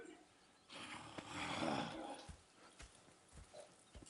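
Horse hooves clip-clop in the Red Dead Redemption 2 video game, a few soft separate thuds following a faint snort or breathy whinny, all fairly quiet.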